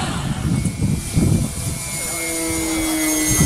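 Electric motors of a Flite Test Bronco RC model airplane drone steadily overhead at half throttle, a continuous whine with wind buffeting in the first half.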